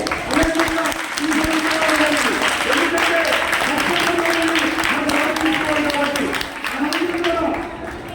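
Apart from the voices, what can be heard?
audience applause at a public event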